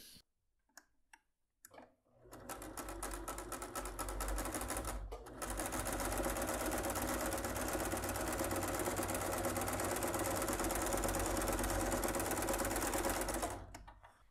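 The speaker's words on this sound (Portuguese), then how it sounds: "E aqui na parte de cima, eu vou passar uma costura para rebater isso aqui." A sewing machine stitches a fabric wallet, running in a steady fast rattling hum for over ten seconds after a few short starts and clicks, close and alone with no talk.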